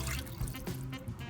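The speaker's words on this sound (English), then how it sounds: "we're going to put 2 cups of water inside" Two cups of water pour into a pressure cooker pot while stuffed peppers are being made, a close, steady splashing trickle lasting just over a second.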